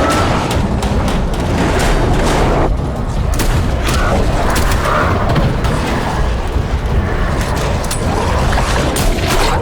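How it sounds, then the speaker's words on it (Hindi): Gunfire from the film Cold Skin: dense, continuous bursts of shots and booms, loud and close, with clattering mechanical sounds and the scene's noise layered throughout. "गोली चलाओ।"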